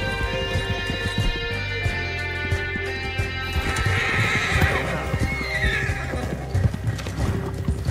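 A horse in Red Dead Redemption II clip-clops at a steady trot, hooves close and rhythmic throughout, with a loud neigh rising over them partway through.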